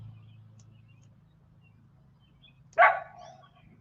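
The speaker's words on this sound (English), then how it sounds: "So my son leaves his dog out, and then he leaves her out here to just sit here and bark and bark." A single short dog bark sounds out in the open, moderately close, after a few seconds of low steady rumble.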